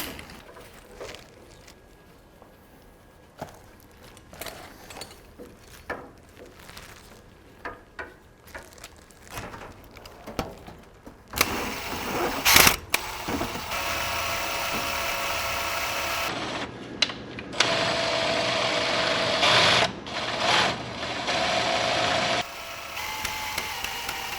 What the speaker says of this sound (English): I'll put it on a drill and spin that sucker and make plenty of oil pressure, prime the motor